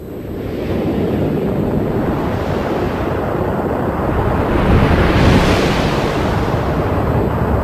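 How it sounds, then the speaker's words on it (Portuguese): Sonified spacecraft data of Jupiter's bow shock makes a steady, roaring, wind-like rush that swells slightly toward the middle and carries on continuously, with no voices. "a primeira coisa que elas encontraram foi o choque em arco do planeta gigante que produz um som como o vento nos dados eletrônicos"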